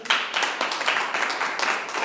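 A church congregation applauds, a dense, steady wash of many hands clapping together that holds at a fairly loud level throughout with small surges, and no voices stand out.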